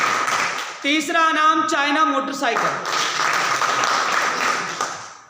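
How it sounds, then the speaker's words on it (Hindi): Crowd applause at a district-level meeting of teachers and enthusiasts as tournament prizes such as motorcycles are announced; someone speaks over a loudspeaker first, then steady clapping fills the remaining seconds. "भरपूर तालियां होनी चाहिए।"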